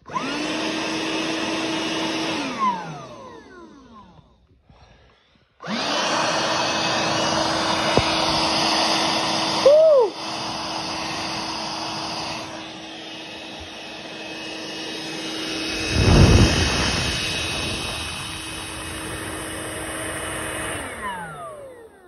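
A small cordless stick vacuum cleaner (Dirt Devil Versa) motor whirs steadily at close range, stopping briefly and then restarting with a high, sustained whine and some shifts in pitch.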